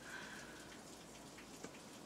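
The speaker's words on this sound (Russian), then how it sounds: "Он как с крыши капает." Steady patter of a downpour, with close dripping off a roof and small splashes spread through a continuous wet hiss, early morning at a garden in Brest, Belarus.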